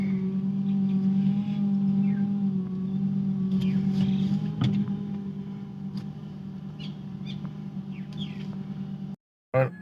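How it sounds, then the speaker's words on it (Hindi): A 2010 Hyundai Santro car creeping forward, a steady low engine hum with a faint higher whine running throughout, a brief sharp knock midway, then a sudden drop-out near the end. "गाड़ी को थोड़ा आगे ले जाने की कोशिश करते हैं।"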